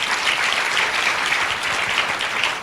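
A congregation claps together during a Sunday Holy Communion church service, a dense, continuous burst of many hands applauding at close range, with no talk over it.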